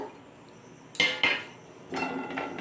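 Metal spoon clanking against a pot while onion payesh is stirred, several sharp clinks and scrapes in quick bursts separated by a quieter pause, close and fairly loud.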